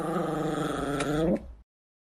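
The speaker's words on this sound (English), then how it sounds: "Don't kick the dog." A dog growls close by in a long, continuous, rumbling snarl that ends in a short whine and then cuts off to silence.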